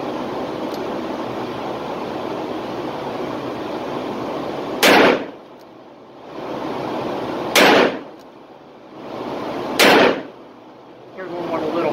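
Three loud, sharp .357 Magnum shots ring out from a Taurus 692 revolver fired single action at a range, spaced a few seconds apart over a steady background hum.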